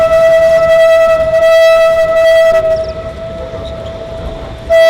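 Diesel trains in a Zambian rail yard: a loud, sustained horn-like tone with metallic drones fills the first half, then a quieter rumble follows before the tone returns abruptly at the end.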